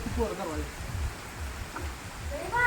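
Steady rain hisses in the background while people talk over it, the patter continuous and moderately loud throughout.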